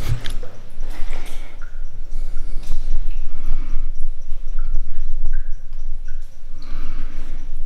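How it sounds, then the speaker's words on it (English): Water dripping inside the Victoria Tunnel beneath the Quayside Railway section, scattered echoing drips and taps over a low rumbling background. "The drips coming from the Quayside Railway section of tunnel can play tricks with your mind"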